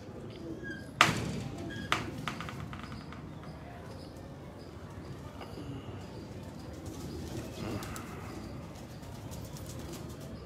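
A racing pigeon at a pigeon-flying event, with a sharp burst of wing flapping near the start and faint coos and rustles afterward, under a steady outdoor background and occasional voices.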